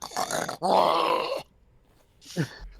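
A person voices a rough, drawn-out growl imitating a creature, preceded by a short vocal burst and followed by a brief grunt after a pause.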